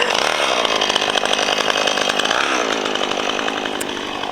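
A chainsaw roars steadily and loudly throughout while cutting up a big felled tree, its engine pitch wavering slightly as it cuts.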